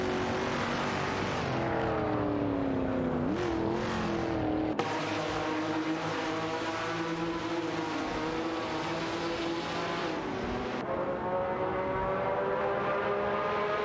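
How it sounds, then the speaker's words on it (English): Race car engines in an AI racing game drone and rev continuously, with rising and falling pitch and a couple of abrupt gear or camera cuts, loud and without talk. "Vroom vroom, looks like someone's revving for victory. Keep those engines roaring."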